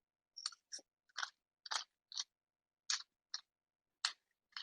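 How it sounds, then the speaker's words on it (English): A new pepper grinder cracks peppercorns over stuffed acorn squash in a series of about ten short, crisp crunching bursts, quiet and close, with no talk. "this is a new grinder, so it's not throwing peppercorns all over the food now"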